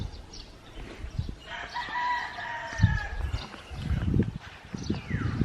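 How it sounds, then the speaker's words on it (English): A rooster crows once with a long drawn-out call over chickens clucking at a rural house-building site in the Philippines, joined by scattered thumps and background yard noise. "Chickens are doing good."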